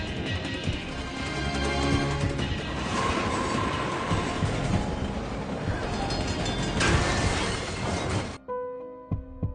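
A train rolls heavily along the rails in an action film, with a loud continuous rumble, metallic clatter and screeching. Several crashing bursts come before the noise cuts off abruptly near the end.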